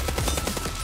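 Gunfire from a Marlin rifle in the online shooter Warface: a rapid, loud string of close shots fired in quick succession, with no talk over it.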